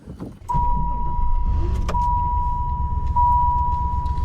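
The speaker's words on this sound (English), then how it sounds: "So a little bit more of a deeper burble on this one, Wizard." A deep V8 engine in a Callaway C8 Supernatural Camaro burbles steadily at idle after a brief thump, with a thin electronic tone sounding above the rumble; nobody speaks.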